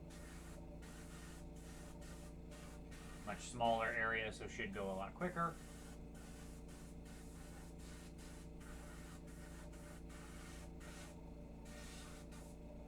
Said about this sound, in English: now we're just going to spray the head down real quick